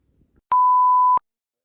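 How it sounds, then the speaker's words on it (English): A censor bleep covers a spoken word in casual storytelling chat: a single steady pure tone lasting well over half a second, clean and loud, starting and stopping abruptly after a few faint vocal sounds. "beep it out on the video"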